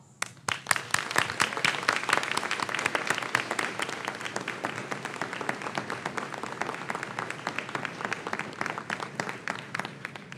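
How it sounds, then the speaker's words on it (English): Loud, sustained applause with dense clapping from a large crowd giving a standing ovation to parents at a Lockport Township High School commencement ceremony, steady for about ten seconds. "we honor you with this standing ovation and applause."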